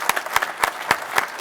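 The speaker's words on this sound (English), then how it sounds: "how about a round of applause?" Applause from the audience at a county board of supervisors meeting, with several sharp bursts of clapping spread across a short stretch, fairly close and moderately loud, no voices.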